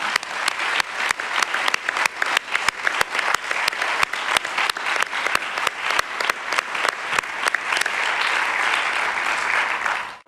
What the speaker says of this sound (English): if you could join me one more time in giving us a round of applause